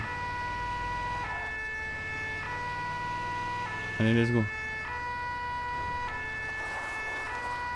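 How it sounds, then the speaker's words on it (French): Ambulance siren in GTA 5, a steady multi-tone wail that sustains throughout and swells briefly louder near the middle, with someone talking over it. "J'ai plus besoin de mettre les sirènes"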